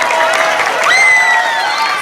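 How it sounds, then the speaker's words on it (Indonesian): Crowd of students at a school Maulid Nabi celebration clapping together, a steady dense patter of applause with some cheering and shouts mixed in, loud and close throughout. "Tepuk tangan dulu buat teman kita."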